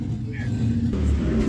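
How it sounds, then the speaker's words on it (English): Outside, a car engine revs with a low rumbling build that rises in pitch, heard from some distance under nearby chatter at a yard sale. "Somebody's revving up out there, ain't they?"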